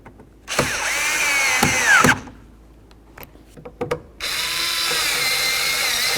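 A power drill whirs in two sustained bursts, driving two screws into a Chevy C/K truck door during a side mirror replacement, separated by a few clicks and knocks, loud and close, with no talking.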